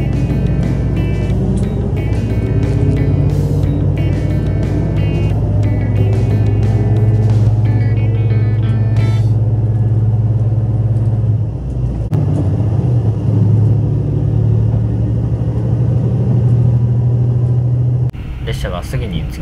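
The JR Shikoku 2700 series limited express diesel train runs with a steady low rumble and whine, heard from inside with a voice speaking over it and a brief shift partway through.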